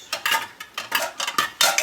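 A quick run of metallic clinks and clanks as a lid is placed on a pan of frying cabbage, close and moderately loud with no talking.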